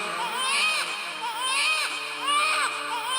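A human voice imitates a baby crying as infant Thakur ji, a wavering, whimpering wail rising and falling in three close, loud phrases.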